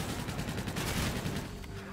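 Rapid bursts of gunfire in the video game Infinite Warfare, a dense, loud volley of overlapping shots that thins out slightly toward the end.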